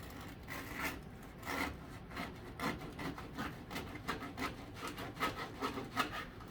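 Crusty sourdough loaf crackling and rasping as hands squeeze and handle it, a steady run of dry crunchy crackles close up, rising and falling in small bursts with no talk.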